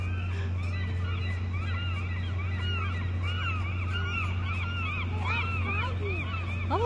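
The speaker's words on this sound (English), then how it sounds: "There's a lot of birds!" A flock of geese at a playground honks repeatedly in overlapping calls that keep coming over a steady low hum of background noise, with the honking growing busier toward the end.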